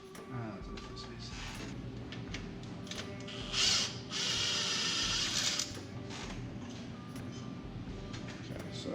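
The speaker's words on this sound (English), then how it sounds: "get that back side bolt off" Ratchet wrench loosening a bolt on a 1988–1998 Chevy/GMC truck while the power steering pump is being removed, heard as rapid clicking under steady background hum, with a louder burst midway and someone talking nearby.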